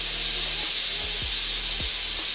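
Steady, loud hiss of steam venting continuously from a pressure cooker, with a few faint low clicks and thumps underneath.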